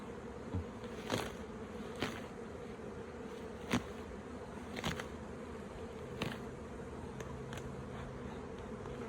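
Honey bees buzz around a crowded hive outdoors, a steady, dense hum of many insects with occasional louder passes of individual bees close by, continuous and free of speech.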